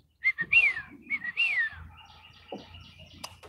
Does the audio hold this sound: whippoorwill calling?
yes